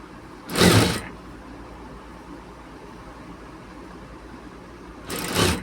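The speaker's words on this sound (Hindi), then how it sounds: "तो ये देखिए मैं भी इसकी भी इस तरह से सिलाई लगा रहा हूँ।" A sewing machine stitches the fitting on a men's shirt in two short loud whirring bursts, one near the start and another near the end, with quiet room noise in between.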